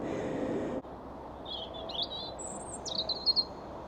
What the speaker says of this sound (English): Ah, there's a bird singing.